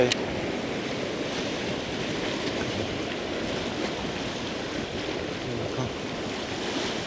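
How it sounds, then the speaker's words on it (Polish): Waves on the open sea wash continuously around a fishing boat, a steady broad surf rush mixed with wind buffeting the microphone, with a sharp knock at the very start. "To trochę za wysokie fale jak na backboata chyba tutaj."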